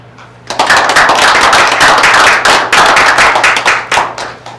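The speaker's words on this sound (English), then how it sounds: "I would just like to give him a round of applause and say thank you for your service" A room full of people at a city of Hermann, Missouri meeting breaks into loud, dense applause, many hands clapping steadily for about four seconds before tapering off, with a faint steady hum underneath.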